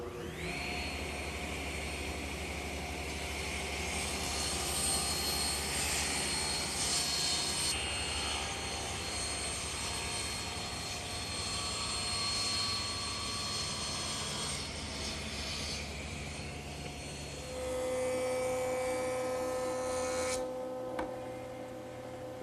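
A table saw runs steadily while feeding stock through a taper jig to cut a taper for a garden table. A loud, even motor whine holds for the whole stretch and shifts in tone near the end. No voices.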